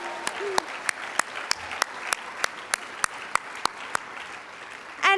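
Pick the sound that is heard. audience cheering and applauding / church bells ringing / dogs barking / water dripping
audience cheering and applauding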